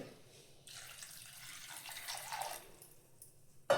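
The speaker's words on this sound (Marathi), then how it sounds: "आता हे कुकरमध्ये टाकूया आणि त्याच्यामध्ये पाणी टाकून घेऊया." Water runs from a tap in a short steady stream for about two seconds, close and fairly soft, then stops with a brief knock at the end; meant for soaked chickpeas in a pressure cooker for chole bhaji.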